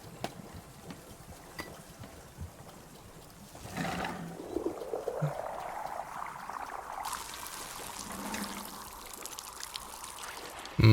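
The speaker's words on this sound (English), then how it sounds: "Okay, scalding hot water," Scalding hot water poured in the video game Wanderstop, a gentle trickle that swells into a steady rising stream, its pitch climbing as the vessel fills, and no speech is heard.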